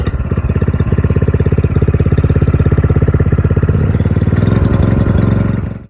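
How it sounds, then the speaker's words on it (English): One-cylinder cultivator engine running, a loud, close, rapid steady chugging pulse that holds an even rhythm for several seconds before cutting off at the end. "This is a one-cylinder cultivator engine."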